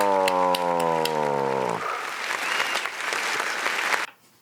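A round of applause bursts in on a podcast right after a sustained falling tone, a dense clatter of clapping that holds steady for a couple of seconds before cutting off abruptly.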